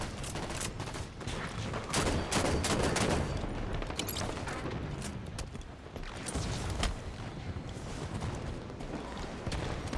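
DMR rifle fire in Halo 5 Warzone, a long run of loud, close single shots with a steady, fairly rapid rhythm, interrupted only by brief pauses.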